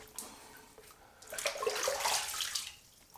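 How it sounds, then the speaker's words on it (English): Water running and splashing at a bathroom sink as a face is wetted before shaving, quiet at first then a louder burst of splashing in the middle before tapering off, with nobody speaking. "let me go ahead and get my face wet"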